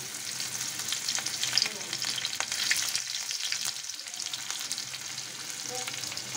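Onions added after cumin and garlic sizzle and fry in a pan for a paneer masala Maggi, a steady close crackling hiss that runs unbroken with brief sputters and no talk.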